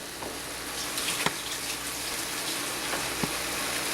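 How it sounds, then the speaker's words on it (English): A tap runs steadily while hands are washed, a continuous close watery rush with faint splashes and a couple of small knocks. "Let me wash my hands while that's doing its thing."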